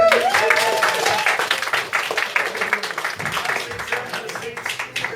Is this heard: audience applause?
yes